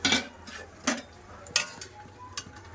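A lid lifted off a pot of boiled mung dal (lentils) in a home kitchen: a few light metallic clicks and taps spaced apart, faint and close, against a quiet background hum.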